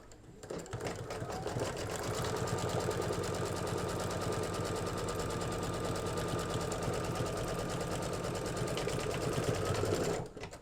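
An embroidery sewing machine runs a tack-down stitch on an in-the-hoop mug rug, a steady rapid mechanical whir and needle patter lasting about ten seconds, close and continuous with no talk.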